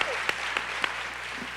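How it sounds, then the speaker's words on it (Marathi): An audience at the Dakani Adab 2022 literary festival breaks into applause, a dense continuous patter of clapping with a few sharper individual claps popping out near the start, heard fairly close and with no clear speech over it. "टाळ्या"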